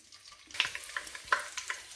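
Frying in a little oil for chicken korma, a soft sizzle that swells after a quiet start, with several sharp crackles and spoon taps breaking through over two seconds.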